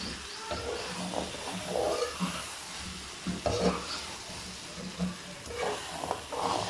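Fried okra is stirred into sizzling masala in a pan, giving continuous hiss and frying crackle with irregular scraping stirs throughout, close and moderately loud.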